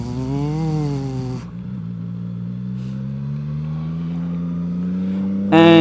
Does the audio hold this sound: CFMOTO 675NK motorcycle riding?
yes